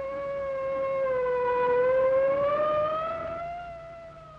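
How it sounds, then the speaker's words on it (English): A warning siren wails alone for a few seconds, a single tone rising slowly and then falling back, moderately loud and fairly close, with nothing else heard. "driver can hear the warning sound of a siren"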